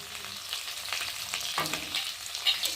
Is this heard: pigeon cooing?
no